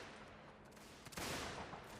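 Musket volleys crackle across a Mount & Blade North & South mod line battle, a dense, distant rattle of gunfire with one louder burst near the middle, over a constant rumbling background and no speech.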